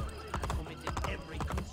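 Horse hooves clip-clopping in quick rhythmic bursts with a whinny mixed in, from a summoned horse in the video game Assassin's Creed Brotherhood, close and fairly loud.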